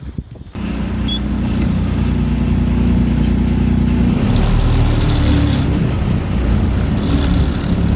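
A truck engine runs steadily and close, with a low rumble and wind-like roar throughout while the truck is driven to an empty container yard to be parked.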